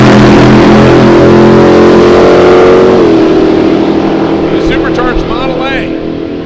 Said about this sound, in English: Right side, the supercharged 1930 Model A is John Mortensen.